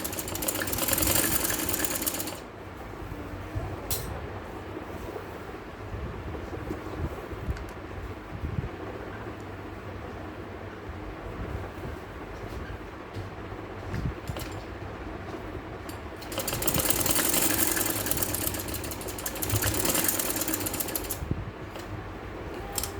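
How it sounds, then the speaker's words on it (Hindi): A sewing machine stitches lace onto a kameez neckline in long steady whirring runs, louder bursts at the start and near the end, with no talk. "इस तरह से आप सिलाई करते हैं"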